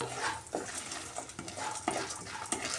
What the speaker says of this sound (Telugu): ఒక 2 నిమిషాలు బాగా ఫ్రై చేద్దాము.